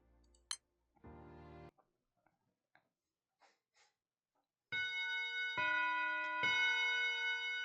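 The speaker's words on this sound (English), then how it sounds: "That is definitely a bell." A bell ringing in the Granblue Fantasy video game: a brief chime, scattered soft ticks and clicks, then a sustained ringing tone struck three times with bright overtones.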